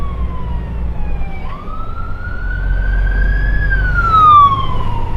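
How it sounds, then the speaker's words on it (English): An emergency vehicle siren wails loudly close by on a road blocked by roadworks, its tone sliding up and holding high over a rumbling engine. "he's got his sirens going"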